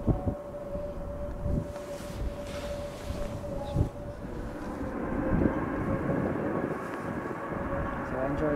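An airplane passes at Liverpool John Lennon Airport on a windy day, its engine drone rising and thickening in the second half against gusty wind noise, with a person talking quietly at times.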